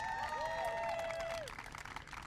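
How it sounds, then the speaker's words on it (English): Crowd applause and cheering at a Pride flag-raising event at the County Administration Center, full and steady for the first second and a half with whoops over it, then thinning toward the end. "Give a big round of applause for this incredible leader in our county, Nora Vargas."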